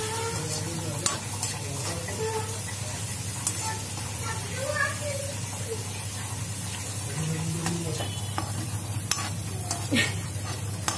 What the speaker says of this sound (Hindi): ब्राउन होने तक भूनेंगे।